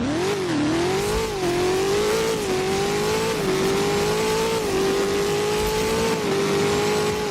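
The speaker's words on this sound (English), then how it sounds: "Then the SSC, I would definitely say the Tortar Striker sounds the best." A loud SSC Tuatara Striker supercar engine in the Roblox game Driving Empire revs continuously, rising and dipping in pitch with repeated throttle blips, steady and close throughout with no talk.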